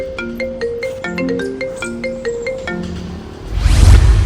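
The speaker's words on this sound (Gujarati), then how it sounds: "કોનો ફોન આવ્યો" A mobile phone ringtone plays a bright repeating electronic melody of quick plucked notes, loud and close, then a burst of broadband noise cuts in at the end.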